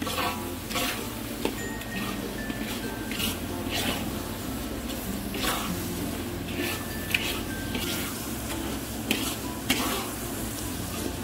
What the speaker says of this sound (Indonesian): Ditumis sampai benar-benar matang sempurna dan harum